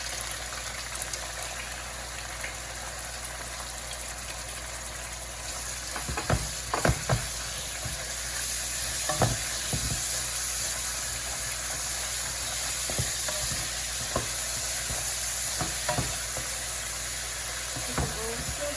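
Steady sizzling of meat stir-frying in a hot pan for fried rice, with scattered clinks and scrapes of stirring throughout; no voices.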